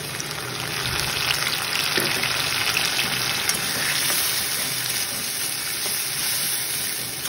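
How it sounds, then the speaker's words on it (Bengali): Tomato, chilli and ginger paste sizzles steadily in oil with fried onions and potatoes for a rui fish curry, a loud, continuous frying hiss with no talking. "এবার আমরা এটার মধ্যে পেস্টটা দিয়ে দেবো, যেটা টমেটো, লঙ্কা আর আদা আমরা পেস্ট করে রেখেছি"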